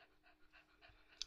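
A hot dog pants close by in quick, quiet, rhythmic breaths, a soft repeated huffing at a steady pace.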